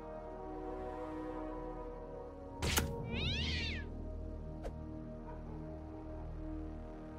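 A cat in the South Park: The Fractured But Whole video game lets out one short meow right after a sharp click, over a steady low game ambience.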